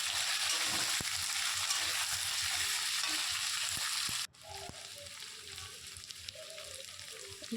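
Potatoes frying in hot oil in a wok seasoned with bay leaf and cumin, a steady loud sizzle that drops abruptly partway through to a quieter crackle, with occasional stirring clicks.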